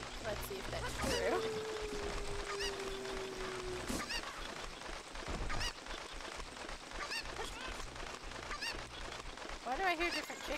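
Cucco chicken noises in Zelda: Ocarina of Time, honking clucks scattered through a busy game soundtrack with a held tone near the start.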